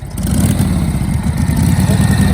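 A Harley Davidson motorcycle engine runs close by, a steady low throbbing rumble that holds an even level throughout with slight rises as the throttle is worked.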